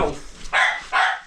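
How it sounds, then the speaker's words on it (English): Several dogs bark for treats and attention indoors, two loud sharp bursts following a fainter yip, close to the listener. "The barking, they want their treats, they want attention, and they fight each other for attention."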